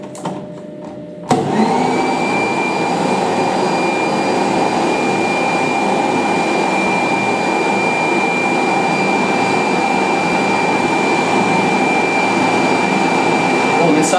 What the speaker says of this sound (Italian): Adesso mi asciugo i capelli.